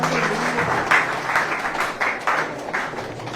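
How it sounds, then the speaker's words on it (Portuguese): A church congregation applauding together, a dense burst of many hands clapping in a loose rhythm, filling the room evenly for several seconds. "Palmas para o Senhor, irmãos."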